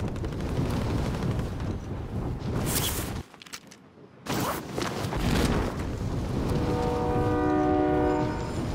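A train in Call of Duty Modern Warfare's Verdansk map rumbles loudly with a horn-like tonal blast near the end, set amid busy game noise and a brief drop-out midway.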